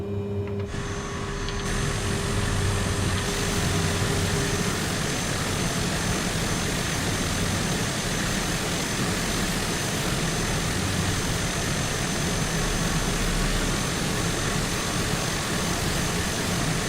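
A light aircraft engine runs before takeoff with a steady, loud propeller drone and constant hum close by.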